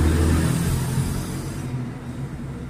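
Motorcycle engine with a loose, rattling starter gear from a loosened magneto screw, running loud and close with a chopping, helicopter-like clatter that fades slightly toward the end.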